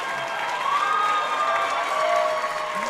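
A crowd heavily supporting Mexico claps and cheers after the women's singles final at the 2022 IRF World Racquetball Championships. A dense, steady wash of applause and cheering fills the arena for the whole stretch, loud and sustained.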